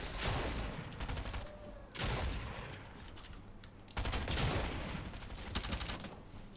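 Gunfire in the Fortnite video game, with rapid bursts of automatic shots in several loud volleys, separated by brief pauses, close and dense.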